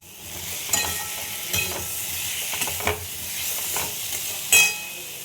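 Tomato-based curry with garam masala and Kashmiri red chilli powder sizzles in a pan while a spoon stirs it, with sharp scraping strokes punctuating the steady frying hiss.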